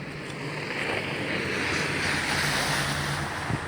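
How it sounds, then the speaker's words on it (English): Howling wind rushes outdoors on a relatively warm day, a steady, loud, broadband roar battering the microphone without pause for several seconds. "It's a relatively warm day today, despite the what might sound like howling wind."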